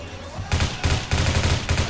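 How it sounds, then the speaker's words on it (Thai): Rapid pistol gunfire crackles in several tight bursts during a round of the online shooter Phantom Forces, each volley loud and close with brief gaps between them. "ปืนพกช่วยเราเยอะแล้ว"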